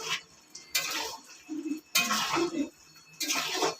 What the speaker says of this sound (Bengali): এবার সবজির সাথে মাছগুলো ভালো করে ওপর নিচ করে মিশিয়ে দেবো।